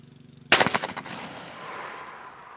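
A Beretta A400 Xcel Multi Target 12-gauge semi-automatic shotgun fires a single loud, sharp blast outdoors, followed by a rolling echo that fades over about two seconds.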